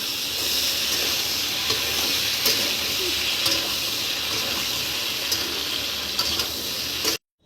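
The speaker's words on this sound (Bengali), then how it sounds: "আলুগুলো ভাজা হলে তার মধ্যে দিয়ে দিলাম পটলগুলো" Pieces of pointed gourd and potato frying together in hot oil, a steady loud sizzle and hiss that runs unbroken, with faint stirring scrapes, then stops abruptly near the end.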